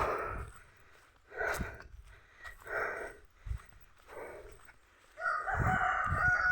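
A rooster crows among chickens in an earthquake-hit rural area of Mindanao, giving several separate calls with quiet gaps between them, fairly near, and a last louder, longer crow at the end.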